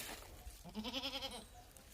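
A single wavering goat bleat, near and clear, lasting about a second against a quiet background.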